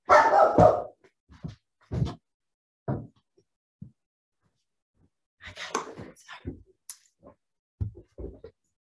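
A dog barks a few times, sharp and fairly close, with short gaps between, and a person talks briefly in the background.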